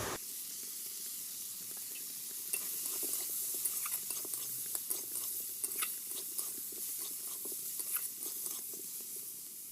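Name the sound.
shrimp frying in pan with turmeric and chili powder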